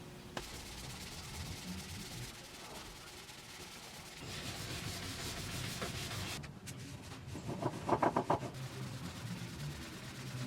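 Wood being sanded, a steady rubbing scrape that swells into a louder burst of strokes partway through, heard alone with no talking.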